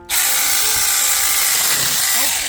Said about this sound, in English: what better way to test out our handy dandy chainsaw than to go ahead and get rid of some of these lower limbs